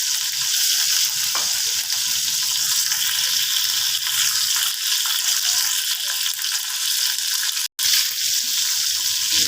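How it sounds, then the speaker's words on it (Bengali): Bitter gourd frying in oil in a wok, a loud, dense, continuous sizzle that holds steady throughout with one brief dropout near the end. "প্রথমে কড়াতে তেল দিয়ে দিয়েছি, করলাগুলো আমি ভেজে নিচ্ছি"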